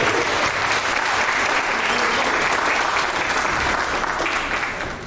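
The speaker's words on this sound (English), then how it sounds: "I would like you to give a round of applause to the most important people here" An audience at a spooky storytelling and pipe organ evening applauds itself, loud, dense, even clapping that holds steady and eases off only at the very end.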